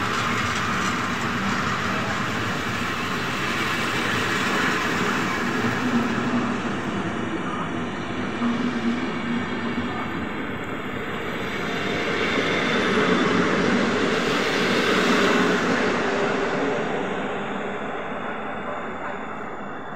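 Intercity train EU-160024 pulling out of Tarnów station, a steady broad rumble and rail roar heard from nearby that swells slightly in the middle and then eases.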